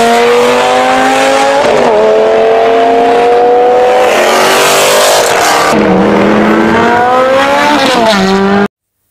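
Racing cars roar loudly and continuously, engines rising and falling in pitch as they accelerate and shift, with tire squeal mixed in.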